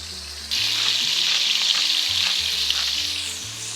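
Hamburger patties fry in oil in a pan, giving a steady, loud sizzle that swells when they hit the fat and carries on continuously, with faint background music and no talk.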